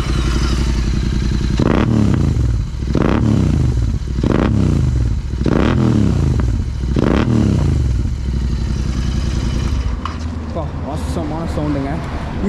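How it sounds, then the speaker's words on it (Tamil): Royal Enfield Continental GT650 fitted with a Red Rooster performance exhaust, revved repeatedly near the pipes: five loud throttle blips rise and fall over a deep, rumbling twin-cylinder idle, which then settles into a quieter steady idle. "ஸோ இந்த வண்டியில் நம்ம ரொம்ப கான்சன்ட்ரேட் பண்ணக்கூடிய விஷயம் இதோட எக்ஸாஸ்ட் நோக்கி பார்ப்போமா"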